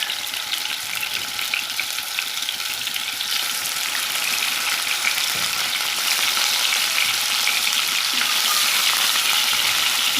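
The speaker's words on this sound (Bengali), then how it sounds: "দেখুন আমার মাছগুলো ভাজা হয়ে আসছে" Pieces of katla fish fry in hot oil in a pan, giving a steady, loud, dense sizzle that runs unbroken from start to finish with no voices over it.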